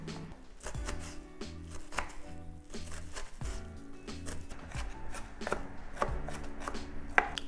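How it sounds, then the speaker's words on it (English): A knife chops a red onion on a cutting board in quick, close, fairly regular strokes, each cut a sharp knock, with no talking. "I make little cuts, but I don't reach the back, which is kind of holding it together."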